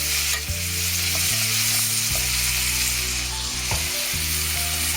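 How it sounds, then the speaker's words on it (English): Butter cubes sizzling in a hot pan alongside an Irish beef steak, a loud continuous close frying hiss over a low tonal hum, with faint clicks. "Now you can add the butter."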